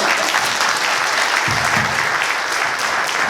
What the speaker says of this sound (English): Big round of applause for Aya, please.